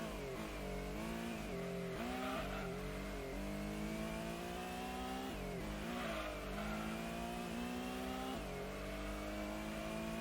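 A race car in Gran Turismo 1 power slides around the Grand Valley circuit on worn tires, its engine revving continuously and rising and falling in pitch through the corners, with faint tire squeal mixed into the constant drone.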